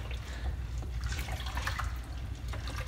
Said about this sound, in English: then I do stir just to keep anything from sticking to the bottom.